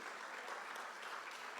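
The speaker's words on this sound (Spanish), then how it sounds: "Dale un fuerte aplauso al Señor allí." A church congregation applauds during a worship gathering, a steady wash of many hands clapping, faint and somewhat distant.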